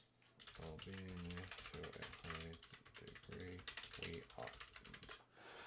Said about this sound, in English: If I knew you were going to go all out and start typing